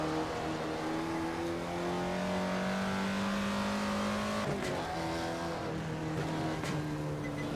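A 1955 Jaguar D-Type racing car in Assetto Corsa roars steadily under load, then drops in pitch as it brakes and downshifts into third on a Scottish Highlands circuit, followed by renewed acceleration.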